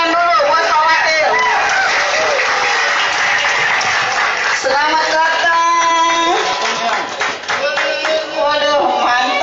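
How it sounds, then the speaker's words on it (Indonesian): Audience applause and clapping at a Minahasa community event welcoming a deputy official, loud and sustained throughout, with people talking and calling out over it. "Tepuk tangan dulu buat Pak Wakil."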